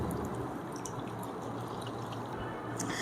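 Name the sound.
squeezing water out of soaked bread slices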